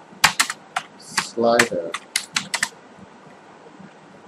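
Keys clatter on a computer keyboard in a quick irregular burst of taps while someone types a web search, with a single spoken word partway through and a faint room hiss after.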